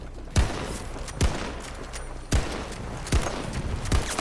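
Gunfire in Battlefield 2042: five heavy, close shots at fairly regular intervals, each a sharp crack with a short ringing tail, over a steady background hum and no talk.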